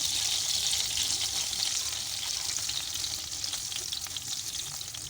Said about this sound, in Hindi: अब इसी तरह मैं बाकी फ़िश भी फ्राई कर लूँगी।